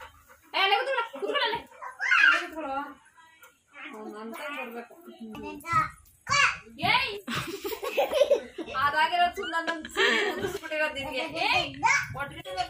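A dog whimpers in high, thin cries amid children chattering and giggling, with bursts of laughter close by.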